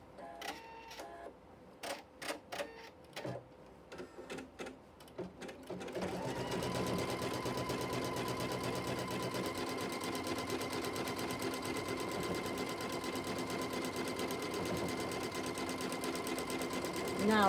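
A sewing machine stitches a Flying Geese quilt block, first with short clicking taps and pauses, then settling into a long, steady, fast mechanical hum that runs continuously to the end.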